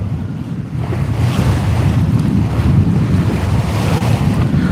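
Strong wind and wave wash surround a sailboat motoring at 5 knots into a 6-knot wind off the Solomon Islands, a loud, continuous roar of buffeting wind over the microphone and rushing water.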